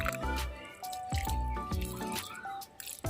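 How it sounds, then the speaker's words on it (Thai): Morning watering of sprouting leaf cuttings in a garden, with liquid dripping and splashing steadily at close range under a bright, layered background of birdsong and outdoor sounds. "วันนี้ได้พามาลดน้ำต้นไม้กันค่ะลดกันเช้าเช้านะคะ"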